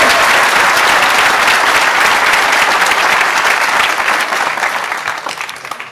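Sustained, dense applause from a large audience at a school prize day ceremony honoring departing faculty members, loud and steady throughout before tapering slightly near the end.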